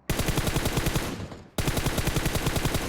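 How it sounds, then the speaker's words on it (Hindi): Rapid automatic gunfire in a mobile battle royale shooter on the Livik map, two loud sustained bursts of evenly spaced shots, separated by a brief pause. "अब यहाँ से मुझको एक गन का साउंड आ रहा था।"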